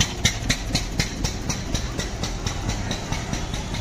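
A 524 cc diesel engine on a 1989 vintage car in showroom condition at a Chennai car show, idling with a steady, even chugging knock that repeats regularly and sounds close, with no talk over it.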